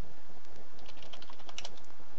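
Short burst of computer keyboard typing during Star Wars Battlefront 2 play with mods, several quick soft key taps in an uneven rhythm with no talk.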